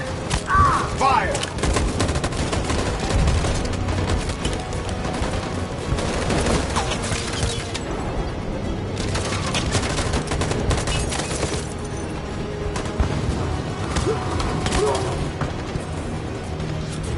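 Dense gunfire volley in Detroit Become Human, a continuous rattling fusillade of overlapping shots and crashes, loud and sustained with brief lulls, while voices shout over the din.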